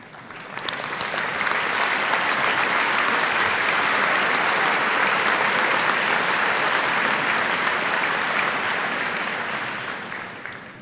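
A graduation crowd at a high school commencement breaks into sustained applause that swells quickly, holds loud and dense for about nine seconds, then fades out at the end.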